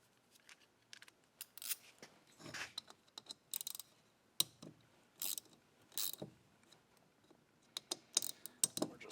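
Bolts are loosened with a ratcheting hand tool during a teardown of a Husqvarna blower, producing bursts of sharp metallic clicks and ratchet ticks with short pauses between them, close up and without talk.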